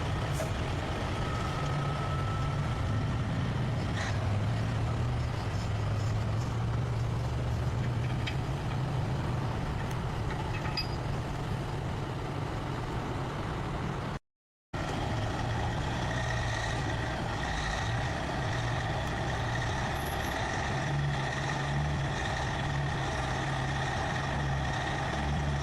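A logging truck hauling a heavy load of logs drifts off the road shoulder toward a hillside, its engine giving a steady, loud low rumble that runs almost unbroken apart from one short dropout midway.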